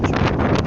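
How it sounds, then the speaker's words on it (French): Strong cyclone gusts batter the microphone with a dense, roaring rush of wind, loud and close, with no break over a brief moment. "Ah non, c'était le vent."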